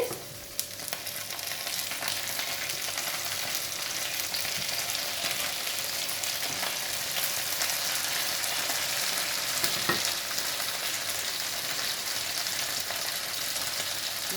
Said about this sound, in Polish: Teraz już możemy wkładać nasze filety.